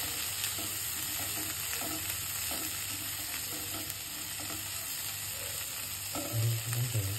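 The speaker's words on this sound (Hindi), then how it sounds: "तो गाइस देखिए कॉर्न को भी हम थोड़ा ब्राउन कर रहे हैं" Corn browning in a pan sizzles and crackles steadily at low volume, with scraping and stirring noises throughout and no talking.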